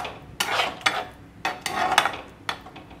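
A spoon stirs arrowroot slurry into chili chicken sauce in a metal pan, giving several distinct scraping strokes in an uneven rhythm over a faint sizzle, close and clear with no talking.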